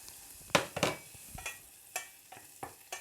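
Butter sautéing in a pan while a baby green pea dish is made, with a series of sharp scraping stir strokes over a faint sizzle, close and fairly quiet.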